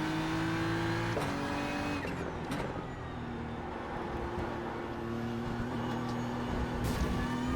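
A GT3 race car in the iRacing simulator revs loudly and steadily, its engine pitch stepping through gear changes, with faint tyre noise underneath.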